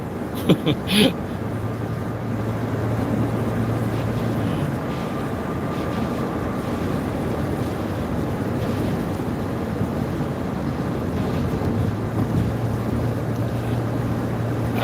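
Inside a car travelling at about 50 mph on a stormy day, a steady, loud rumble of road and wind noise fills the cabin, with a few knocks near the start.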